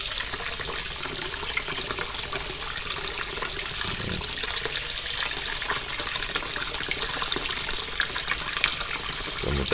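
Water runs steadily throughout while a small ornamental fish tank is being refilled, a continuous broad hiss like a tap pouring into water, with one brief splash partway through and no talking.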